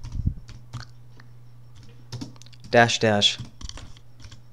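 Typing on a computer keyboard in a terminal on an Ubuntu 16 desktop: scattered clicky keystrokes over a steady low hum, with a short burst of speech partway through.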